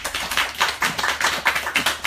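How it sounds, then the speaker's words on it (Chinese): An audience at a post-screening talk claps hands in a quick, regular patter of about a dozen beats, close and fairly loud, with no voices. "我们拍拍手，谢谢福宇"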